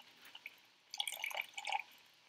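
Used oil is poured into a fresh water supply in the Deponia video game, a short run of close, wet dripping and splashing with a few lead-in drips, then a brief gurgling pour that fades.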